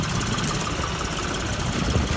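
A John Deere 5210 tractor engine running loud and continuous with a knocking diesel rumble as it is put into gear, steady throughout.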